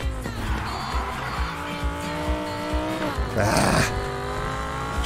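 A racing car in the Need for Speed Heat video game revs hard with a climbing engine whine, then its tires squeal sharply in a loud skid, with a player's brief exclamation over it.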